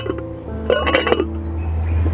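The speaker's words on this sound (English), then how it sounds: "And this is also a glass bowl." A glass bowl clinks in a short cluster of bright, close taps, ringing briefly over a steady low hum.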